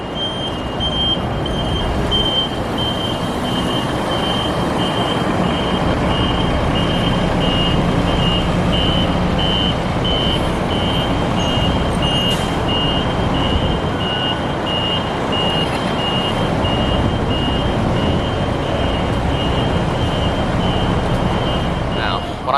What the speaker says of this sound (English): buses have to back out and avoid the poles and other buses